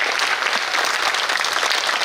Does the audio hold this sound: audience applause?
yes